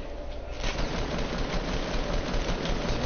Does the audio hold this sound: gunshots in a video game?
yes